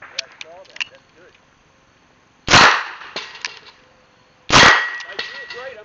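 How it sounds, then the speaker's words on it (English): Two loud, sharp revolver shots ring out about two seconds apart at a USPSA match, each with a short ringing tail. Faint talk and small clicks fill the quieter gaps. "Just keep shooting at that spot."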